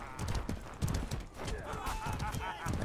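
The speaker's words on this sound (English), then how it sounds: "That guy's just riding horses." Horse hooves clip-clop in the medieval combat video game Mordhau, a rapid uneven patter of beats mixed with game noise and some voice.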